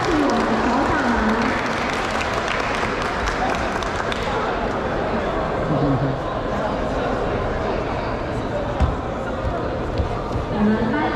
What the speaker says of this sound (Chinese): 我们掌声恭喜我们首长们